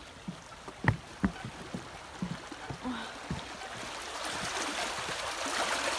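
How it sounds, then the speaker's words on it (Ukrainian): Water gushing out of a canal outlet in a park by boats, a continuous rushing flow that builds toward the end, with a few sharp splashes and knocks early on. "Тут вода виходить потоком."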